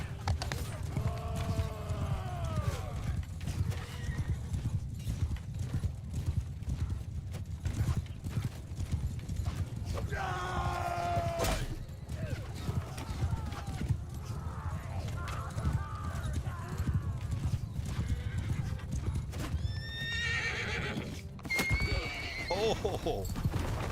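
A horse in the Bannerlord game gallops with steady rapid hoofbeats throughout a noisy battle, neighing loudly several times, with someone talking over parts of it.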